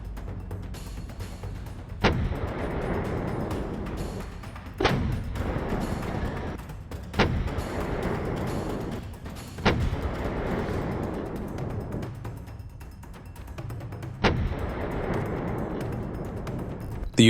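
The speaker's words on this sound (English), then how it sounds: "The Ukrainian tank fired 5 times at the Russian enemy unit and cleared the enemy." A Ukrainian tank fires its main gun at enemy infantry at close range during a winter assault: five heavy, evenly spaced blasts stand out over a steady low rumble.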